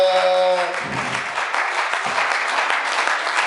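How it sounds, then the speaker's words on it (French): A church congregation applauds loudly and steadily, dense clapping from many hands filling the room for several seconds after a brief sung or spoken note at the start. "Acclamez encore très fort pour le Seigneur bien-aimé."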